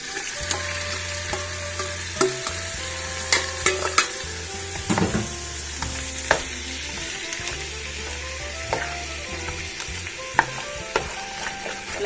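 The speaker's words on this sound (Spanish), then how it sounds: "vamos a poner nuestra carne para que se vaya friendo" Ground beef frying in oil in a pot for homemade picadillo, a steady close sizzle broken by repeated scraping and clattering stirs of a utensil against the pot, with no talking.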